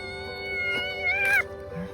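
A kitten meows in a short rising cry close by, heard over a steady tonal background of music or hum.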